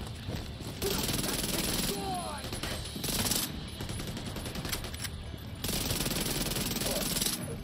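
Rapid automatic gunfire from a weapon in The Division 2, bursts of fast shots that start and stop several times at a moderate distance, with players talking over the firing.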